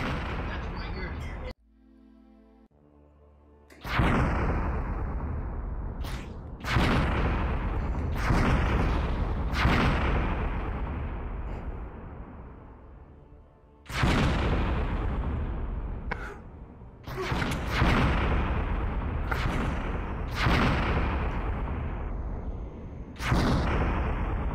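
Video game gunfire in a Navy SEAL target-shooting sequence: a series of loud, heavy booming shots, each followed by a decaying rumble, spaced a few seconds apart, with a brief quiet gap near the start.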